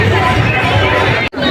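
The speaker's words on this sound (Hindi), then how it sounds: "लेकिन भीड़ बहुत ज्यादा है" A large crowd mills around at a busy temple fair, with dense, loud chatter and hubbub close by and a brief drop near the end.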